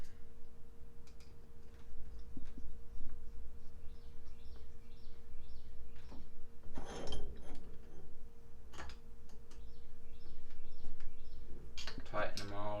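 Screws are tightened down while mounting a vintage Craftsman 5170 vise, producing a string of small ticking, ratchet-like clicks with faint metallic knocks, near and fairly quiet, with a voice talking in the background.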